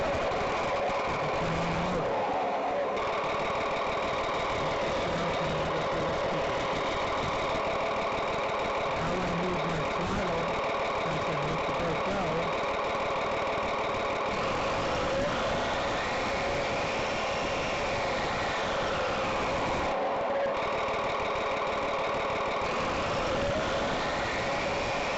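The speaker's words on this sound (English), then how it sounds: "an engine running that varies with the speed of the throttle for the electric motor" Simulated engine running sound from a Springer 4 RC sound module, its pitch following the throttle of an electric motor; a steady, loud droning with layered harmonics that shift and dip briefly a few times, no talking.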